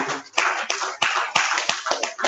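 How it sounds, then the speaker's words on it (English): A small group claps in uneven bursts at a Toastmasters club meeting, with the sharp hand claps rising and falling over a couple of seconds. "Thank you for the applause."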